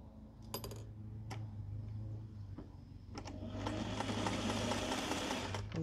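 Sewing machine stitching a short tack across nested quilt seams at an intersection, running in a steady mechanical whir that turns faster and louder near the end, with a few clicks before it starts.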